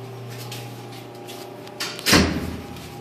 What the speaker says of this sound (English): let me get over here so I can open the door.